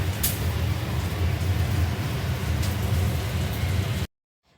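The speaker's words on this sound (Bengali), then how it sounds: "এখন আবার বৃষ্টি স্টার্ট হলো দেখছো কি বৃষ্টি হচ্ছে" Steady rain falls outside a city flat, a dense continuous hiss and patter at even loudness for about four seconds before cutting off abruptly.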